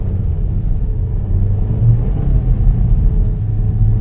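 A 2025 Volkswagen Taos with 4Motion all-wheel drive accelerates on a winter road, heard from inside the cabin as a steady, loud low engine and road rumble with a slight rise in pitch.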